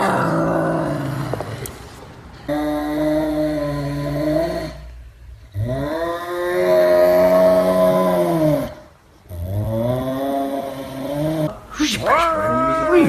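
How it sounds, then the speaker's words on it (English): An F1 Savannah cat gives long, drawn-out wailing yowls, three or four sustained calls separated by brief pauses, loud and close, ending on a rising, strained cry. "This is an F1 Savannah cat, and they're one of the most expensive domesticated cats you can possibly own."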